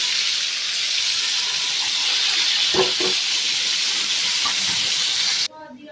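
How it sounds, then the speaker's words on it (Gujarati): Gravy tipped into a pan of hot whole spices, star anise and dried red chillies, for a gravy potato curry gives a loud, steady hiss and sizzle that runs on evenly, then cuts off sharply near the end. "તો હવે આમાં આપણે ગ્રેવી બધી એડ કરી દઈશું"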